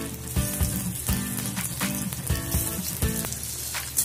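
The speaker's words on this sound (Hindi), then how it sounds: "धीरे धीरे मैं उसे फ्राई कर लूंगी।" Sabudana vada fry in hot oil with a steady, close crackling sizzle and bubbling, and a few brief clinks over a background of music, with no voices.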